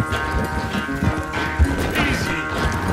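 Horse hooves in Red Dead Redemption 2, with a rapid clip-clop of galloping beats over game ambience and a sharp thump midway, with no talk.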